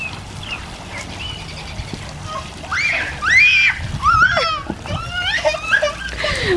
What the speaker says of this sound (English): All right, go get in the water. Go splash.